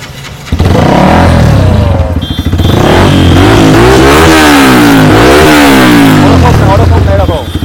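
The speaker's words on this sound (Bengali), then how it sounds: "একটু স্টার্ট করে গাড়ির সাইলেন্সারের আওয়াজটা শোনাবো।" A 2019 Yamaha R15 fitted with an aftermarket Akrapovic exhaust bursts into life close by, then revs repeatedly, its engine note rising and falling loudly in a workshop setting.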